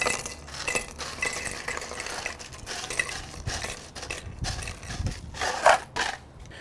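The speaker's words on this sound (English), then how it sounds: "Now we'll take our ice." Ice cubes clink and rattle into a margarita glass, a run of bright, close chinks and knocks over a few seconds, with a louder clatter near the end.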